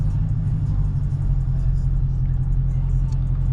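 A Dodge Challenger 392 V8 rumbles low and steady from inside the car on a calm drive, a constant deep drone at even loudness throughout.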